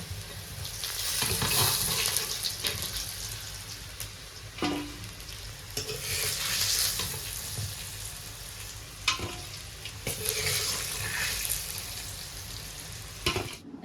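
Pieces fry in hot oil in a pan until reddish while cooking elephant foot yam with meat, giving a steady close sizzle broken by occasional stirring scrapes and clanks.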